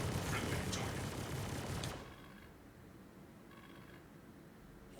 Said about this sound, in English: Now we have 4 attrition guns.